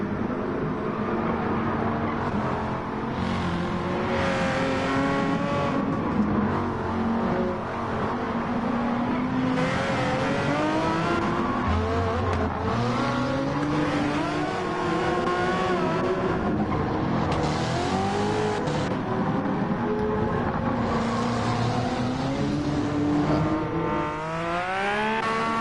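Nissan GT-R race car engine in Gran Turismo 7 at a 90s vintage Le Mans endurance race, loud and continuous, revving up and down through gear shifts with other cars' engines layered around it, no talk.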